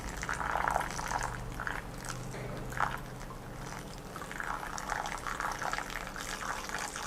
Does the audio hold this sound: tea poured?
yes